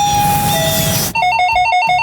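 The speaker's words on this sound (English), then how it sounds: "The doorbell." Electronic doorbell ringing, a sharp burst of repeated chiming tones that comes in abruptly after a mixed, noisy stretch and rings loud and close.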